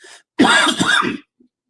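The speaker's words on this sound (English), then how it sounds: "That's that COVID cough I told you about." A single harsh, close COVID cough burst lasting under a second, with a faint short sound just before and a tiny click after, no talking.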